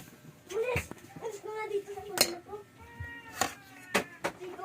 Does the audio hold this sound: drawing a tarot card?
no